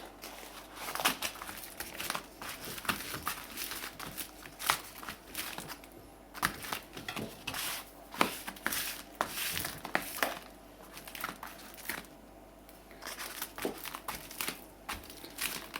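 Paper being pushed, pressed and crinkled while making a recycled scrapbook journal, giving continuous close crackling and rustling with irregular sharper crunches throughout, without talk.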